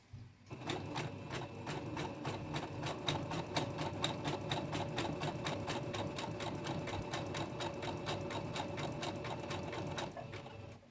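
A sewing machine runs a long seam on a dog coat, a quick even needle rhythm that starts, keeps going for about ten seconds and then stops. Nobody speaks.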